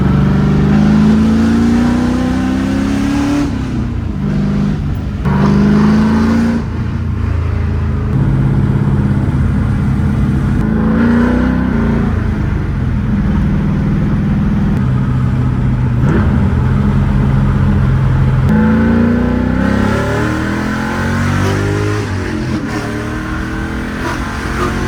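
A BMW E36 fitted with an LS1 V8 engine accelerates on its first drive, giving a loud, close interior drone with repeated rising revs through the gears and brief dips at the shifts.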